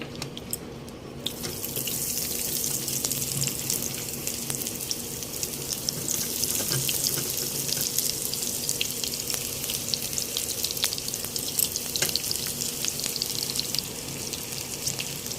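Chopped onion hitting hot oil for a prawn fry, a loud, dense sizzle that bursts in at the start and keeps crackling steadily up close with occasional stirring clicks, no talking.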